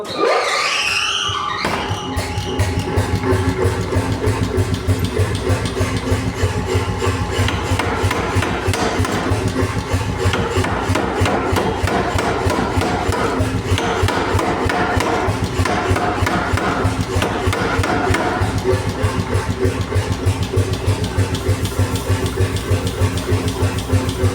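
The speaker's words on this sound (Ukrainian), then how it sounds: "І тепер під молотом робимо знову" A mechanical power hammer forging hot metal for a shovel or poker handle pounds steadily at a fast, relentless rhythm, loud and close, with metallic ringing under each blow.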